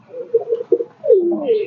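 Young satin pigeons cooing close up, with soft pulsing coos early on and then a longer rising and falling coo, loud and clear with no talk.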